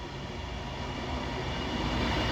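An Avanti West Coast Class 390 electric train pulls into Oxenholme station on the West Coast Main Line with a steady, loud rumble and rising roar, close by and without voices.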